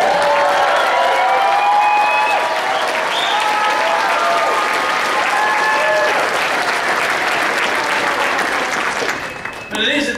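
An enthusiastic crowd applauds at a Ron Paul campaign event, dense sustained clapping with some cheering that carries on for about nine seconds before starting to fade.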